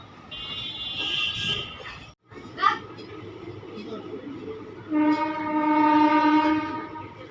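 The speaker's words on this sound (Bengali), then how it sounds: "প্ল্যাটফর্ম নাম্বার তিন দিয়ে আমাদের ট্রেন সাইথিয়া স্টেশনকে স্কিপ করছে" Passenger train 13417 runs through Sainthia station on the Sahebganj loop line, its horn sounding in long sustained blasts over steady rumble and clatter, with a sharp brief squeal in between; a voice is faintly present.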